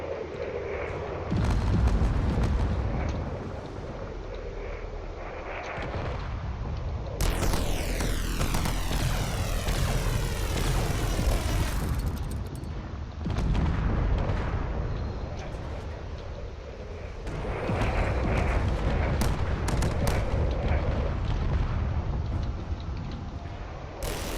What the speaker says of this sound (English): there's a lot of explosions going on down here